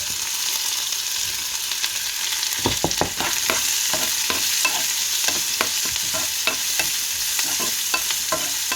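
Fennel seeds, fenugreek and onion fry in hot oil for a drumstick curry, a steady close sizzle broken by a run of sharp spoon scrapes and stirring clatters against the pan.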